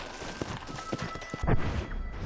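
Hooves of a warhorse clip-clop at a steady pace in Red Dead Redemption, a string of close, regular thuds, with a heavier stomp near the end.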